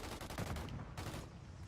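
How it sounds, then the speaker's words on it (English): Submachine gun fire in a Call of Duty match, a loud, dense stream of rapid shots with short pauses between clusters, alone without talk. "Gun kicks everywhere because it's a fucking SMG."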